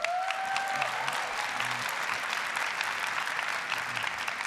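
Audience applause fills a large hall during the Oculus Connect 5 keynote, a dense, steady clapping that holds at an even loudness from start to finish, with a couple of brief tones faintly heard near the start.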